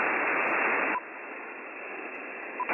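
Static from a used 1995 Icom HF radio receiver with the noise blanker switched on: a loud, steady hiss that drops sharply in level about a third of the way in, with faint brief tones underneath, no talk.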